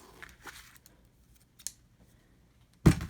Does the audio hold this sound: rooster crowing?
no